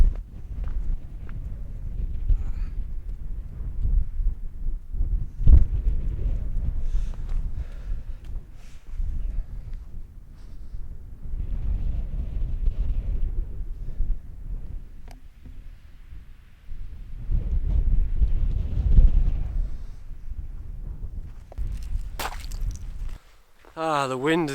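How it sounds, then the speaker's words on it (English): Wind blows across the open top of Place Fell in the Lake District, a gusty, low rumbling roar buffeting the microphone that swells and eases in waves and drops away briefly near the end. "The wind has just subsided a little bit."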